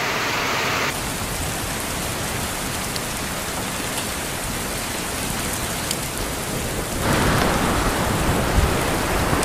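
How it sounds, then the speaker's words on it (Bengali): Heavy rain pours down steadily without thunder in a West Bengal village, a dense close hiss of drops on surfaces that swells louder near the end. "কোনো মেঘ ডাকছে না, শুধুমাত্র বৃষ্টিই হচ্ছে"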